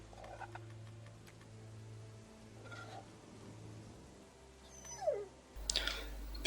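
A hungry dog in The Walking Dead: Season 2 video game whimpers with faint high whines amid low game background hum and a few soft clicks, a brief louder burst near the end.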